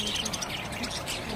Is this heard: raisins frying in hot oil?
no